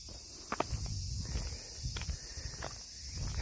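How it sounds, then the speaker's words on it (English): Cicadas in the Japanese summer countryside make a steady, high-pitched drone that hangs over everything, with footsteps crunching along a walking path and a few brief knocks in between. "so many different kinds of cicadas. They're making all the noises."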